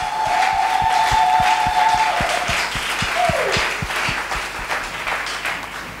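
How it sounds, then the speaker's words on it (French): A church congregation applauding for the Lord with a steady, sustained burst of many hands clapping, joined by a regular rhythmic beat and a brief high tone, loud and close throughout. "Est-ce qu'on peut acclamer pour le Seigneur?"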